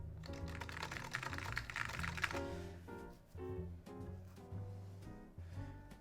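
Rapid clacking of a mechanical Alps keyboard fitted with AEK2 keycaps, bursts of close keystrokes with a brief pause between runs, heard on its own without talking.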